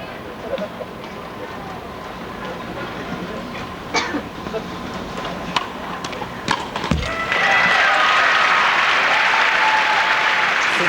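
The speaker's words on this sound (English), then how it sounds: "the crowd here at the Garden trying to give Lindsay everything to keep her going" A crowd at Madison Square Garden applauds during a women's tennis championship final, steady clapping that swells sharply louder toward the end, with a commentator talking over it.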